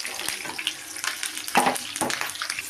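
Onions and curry leaves fry as a tempering in two tablespoons of hot oil for a stuffed brinjal curry. A steady close sizzle runs throughout, with louder bursts from stirring strokes and no talk.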